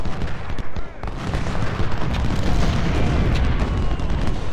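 Cannon artillery fire from the Civil War game Ultimate General: Civil War, a dense, continuous rumble of booming shots layered thick and loud with no pauses.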